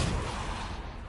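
The Depulso spell is cast in the Hogwarts Legacy video game, a short, dull, rumbling blast with a heavy low thud that fades within about a second.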